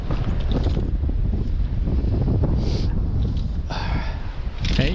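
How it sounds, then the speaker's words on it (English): Wind picking up outdoors during a fishing session, roaring steadily and buffeting the microphone with loud rumbling gusts throughout, close and dominant, with no voices. "you can definitely hear that wind picking up"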